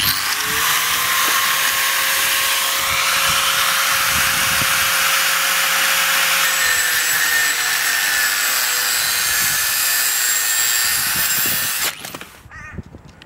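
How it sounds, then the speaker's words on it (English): A power grinder cuts into the end of steel motorcycle exhaust pipes on a Suzuki GS500, giving a loud, steady high-pitched whine that runs continuously for about twelve seconds and then stops abruptly, with no talking. "I needed to just grind down the end of my exhaust pipes a little bit"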